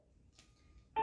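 A single telephone keypad tone sounds at the very end, loud and abrupt after near silence, as a caller redials someone.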